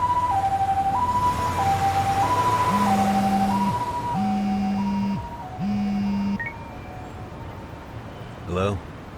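An ambulance siren in the video game Lost Judgment wails in a steady two-tone alternation, with a lower horn-like tone joining partway through before both fade. Voices are heard over the siren.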